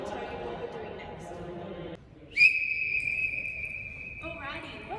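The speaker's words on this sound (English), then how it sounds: "will blow the whistle at the end of the activity" A referee-style whistle blown once in a long steady blast of about two seconds, loud and close, marking the end of a basketball jump shot drill, with voices talking before and after.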